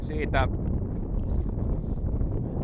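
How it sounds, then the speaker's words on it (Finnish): Low, constant wind rumble roars across the microphone, with a voice briefly speaking at the start. "tuuli on vähän noussut lähdön jälkeen"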